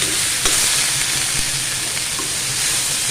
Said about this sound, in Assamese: এইদৰে লৰাই কিছু সময় ভাজি ল'ব লাগিব জিকাখিনি গলি লোৱালৈকে